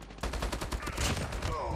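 Shotgun blasts and gunfire from a Call of Duty Mobile match, a fast burst of sharp reports packed close together, dense and loud throughout.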